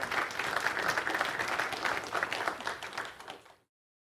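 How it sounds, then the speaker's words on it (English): A lecture audience giving a speaker a round of applause: dense, even clapping from a roomful of people, holding steady for about three and a half seconds before cutting off abruptly. "Let's give Alex a round of applause"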